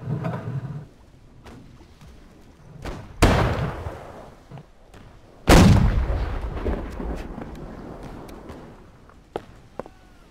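Ship cannons in a naval battle video game: several heavy booms go off at irregular intervals, two of them loud and close with rumbling tails, between quieter thumps.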